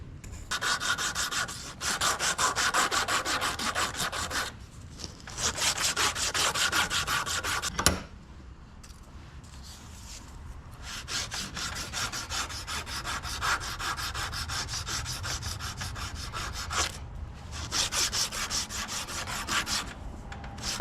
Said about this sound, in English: we can do some hand sanding now